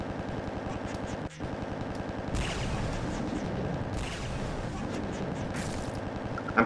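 Rapid sustained minigun fire in the sci-fi shooter Star Warfare Alien Invasion, a dense rattling stream of shots with bursts of heavier blasts layered over game sounds.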